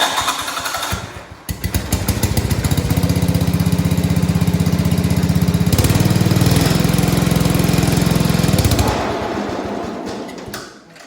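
A John Deere 100/200 series garden tractor with a mower deck mounted, running in cold weather: a loud, close engine rumbles and revs steadily with the deck engaged, then winds down and sputters near the end.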